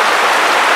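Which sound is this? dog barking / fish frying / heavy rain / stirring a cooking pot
heavy rain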